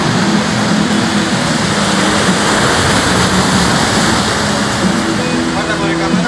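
Sea waves break and wash at Torreón del Monje as a broad, steady rushing surf noise that fills the scene continuously, with people's voices talking over it.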